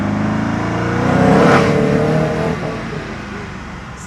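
Koenigsegg Agera R engine accelerating hard on a small track, a loud rising roar that swells to a peak mid-clip, then eases off into a lower rumble.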